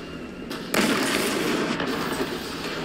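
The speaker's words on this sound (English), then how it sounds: "This kid comes in. No fucking way. Rocket launcher?" A rocket launcher fires in a video game with a sudden loud blast that becomes a broad, sustained roar of noise, close up, with no talk over it.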